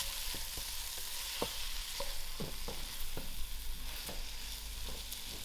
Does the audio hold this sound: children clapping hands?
no